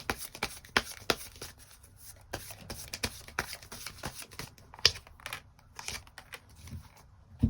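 Tarot cards shuffled and drawn during a reading: irregular, crisp snaps and soft slides of card stock close by, scattered over several seconds with brief pauses between flicks.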